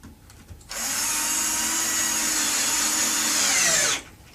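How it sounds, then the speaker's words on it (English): Power drill driving a heavy screw into a wall while mounting a wood range hood, a loud steady high-pitched whine for about three seconds with a slight rise in pitch before it cuts off abruptly. "So I'm going to put 6 screws in here."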